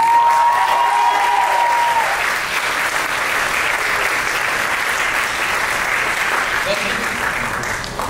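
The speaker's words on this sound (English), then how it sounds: "So another round of applause for him." Sustained applause from the audience at a Diwali college dinner, a loud, dense wash of clapping from many hands that runs steadily for about eight seconds, with faint voices mixed in.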